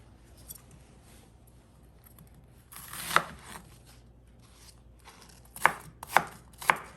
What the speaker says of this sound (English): Just cut into small pieces